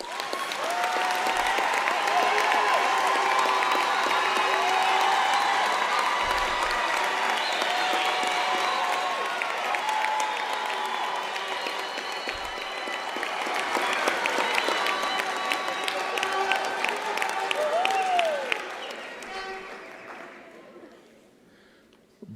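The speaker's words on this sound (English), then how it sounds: "I want to believe that the graduates deserve a very big round of applause" A large audience at a university autumn graduation ceremony in South Africa applauds the graduates, a sustained wave of clapping with cheers and ululating voices that fades away near the end.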